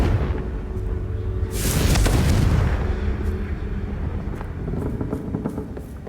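A loud booming blast from a Confringo spell in the video game Hogwarts Legacy swells and rumbles for about a second, then trails into quieter crackling and scattered impacts.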